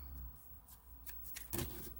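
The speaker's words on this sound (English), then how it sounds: "I'm going to give one shuffle to them." Tarot cards get a single brief shuffle at close range, a short papery riffle and flutter near the end after a quiet stretch of faint handling noise.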